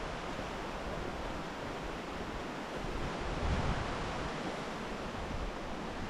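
Creek water flows through a cave, giving a faint, steady broadband rush with no distinct splashes or voices.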